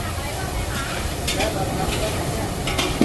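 Squid and basil stir-fried five kilos at a time in a large wok at a busy Thai curry-and-rice stall in an open market. Steady sizzling and scraping come with occasional metallic clinks, under a voice and market bustle.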